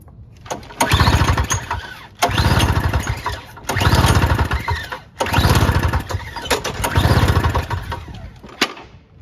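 A snow blower engine is cranked repeatedly without starting: five loud bursts of rapid chugging, each lasting about a second, separated by short pauses.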